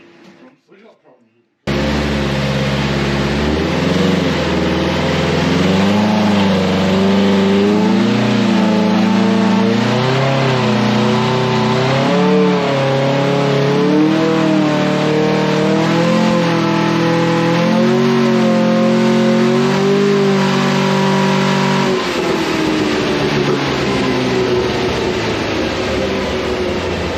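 A Porsche 914 engine with freshly set-up carburettors revs hard on a rolling road dyno, the pitch climbing and falling through repeated pulls, then dropping away near the end. A brief voice is heard just before the run starts.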